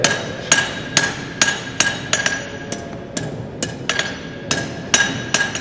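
Hammer blows on a horseshoe being bent at a farrier's anvil, about a dozen sharp ringing metallic strikes in an irregular rhythm, close and loud with no talking.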